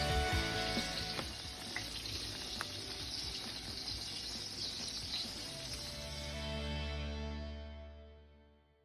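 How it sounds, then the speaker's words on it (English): Hamburger steak patties fry in a pan with gravy, giving a quiet, steady sizzle and bubbling that fades out near the end. "Now I'm adding the meat patties back in."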